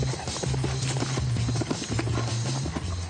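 Hooves of mares clip-clop at a horse breeding farm where the herd lives outdoors year-round, a steady close walking rhythm with an occasional soft whinny-like tone beneath.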